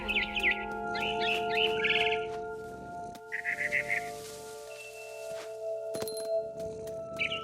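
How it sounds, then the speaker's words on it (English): A barn swallow chirps outside a window in the video game What Remains of Edith Finch: bursts of quick bright twitters over sustained musical tones and soft ambient clicks. "Then I heard chirping outside my window. It was a barn swallow going back to her nest."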